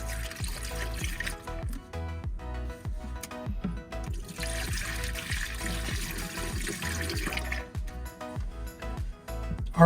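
Vinegar, half a gallon, pours into an RV holding tank as a steady liquid trickle and gurgle, fairly close and continuous with no talk over it.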